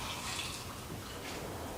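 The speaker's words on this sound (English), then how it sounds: "I'm going to just pour it back in here" Pickle brine for homemade gherkins being poured back into a container, a steady close liquid pour and splash running continuously without pause.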